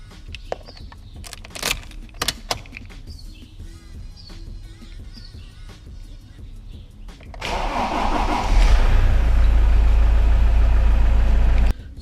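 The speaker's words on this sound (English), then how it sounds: "to start the engine, you're gonna then push it a little bit further" A car engine cranked with the ignition key catches and settles into a loud, steady idle, preceded by quieter clicks and handling noises.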